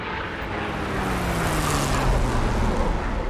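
A P-51 Mustang propeller plane flies in the DCS combat flight simulator, its engine a steady broad drone that swells slightly with a faint rising and falling whine, fairly quiet throughout.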